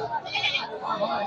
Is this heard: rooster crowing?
no